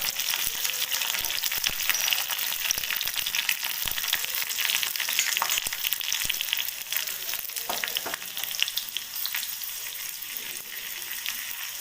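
Garlic frying in hot oil gives off a steady, close, dense sizzle with faint stirring clicks throughout, and no voices.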